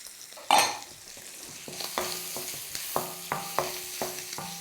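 Minced garlic and king prawns frying in a pan for pad thai, with a steady sizzle and a run of regular utensil scrapes and taps, close and alone.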